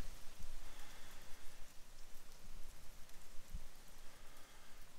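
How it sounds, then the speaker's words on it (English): Sleet or hail falling outside: a steady, dense patter spread evenly across the clip, with a few louder nearby impacts and no voices. "That's like snow, hail, sleet, something."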